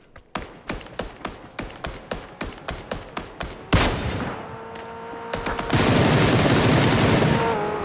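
PUBG battle royale gunfire: about a dozen evenly spaced single shots crack loudly, then a sustained roaring burst of heavy firing and engine-like noise takes over, with no talk.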